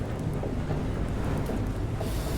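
Thunderstorm with rain in the sea-faring game FAR: Changing Tides, a steady, dense roar of rain and wind with a low rumble of thunder underneath, loud and unbroken throughout.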